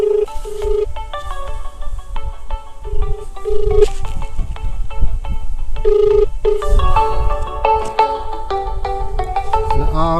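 A mobile phone buried in buffalo dung plays a melodic ringtone, a steady repeating tune of stepped notes heard outdoors over low background rumble and rustling.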